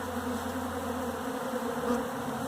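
Steady, close buzzing of bees kept in a hive, a dense insect drone that holds constant and undisturbed throughout.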